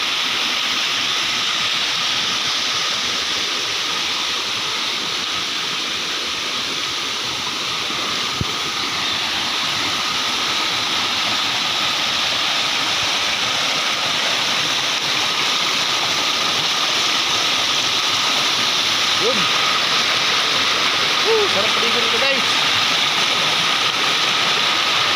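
Balempalis Living Water Falls pours in a steady, dense broadband rush, a continuous close roar of falling water with no break across the whole stretch and no voices.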